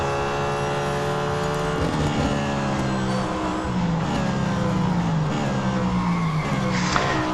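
Nissan Altima supercar in Real Racing 3 at Hockenheim, its engine droning steadily with rising and falling tones while the tires scrub and skid under hard cornering, loud and continuous with no talk.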